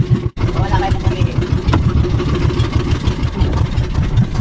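A fishing boat's engine idles steadily up close, a constant low chugging drone that fills the clip, with people talking over it.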